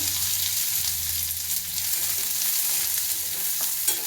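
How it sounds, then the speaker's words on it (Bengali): Chopped onions fry and sizzle in a pan of hot oil, a close steady hiss with soft stirring scrapes and no talk. "পেঁয়াজ কুচি দিয়ে দিলাম।"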